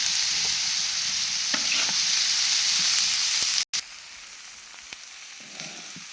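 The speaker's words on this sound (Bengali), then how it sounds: "করল্লা তেলের উপরে ভাজলে একদম লাল লাল করে ভাজতে হবে" Bitter gourd frying in oil in a small wok sizzles in a loud, steady hiss close by that drops quieter after a short break.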